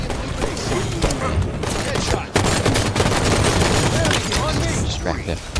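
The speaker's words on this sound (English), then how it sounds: "If they get that machine gun, that's the machine gun right there." Sustained machine gun fire in the Halo 5 video game rattles loudly and continuously amid a dense, chaotic battle mix with other impacts and shots.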